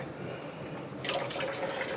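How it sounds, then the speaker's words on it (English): Water running through sausage casing intestines while making homemade beer bratwurst, a soft splashing, trickling flow that starts partway through and continues steadily up close. "you'll know that you got it open as soon as you see water going there"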